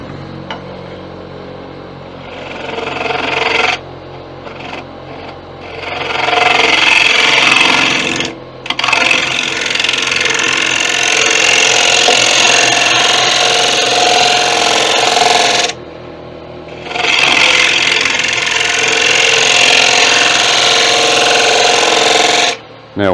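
A heavy-duty negative rake scraper works a tiger wood platter spinning on a wood lathe, giving a loud, sustained scraping whir in long passes broken by brief pauses.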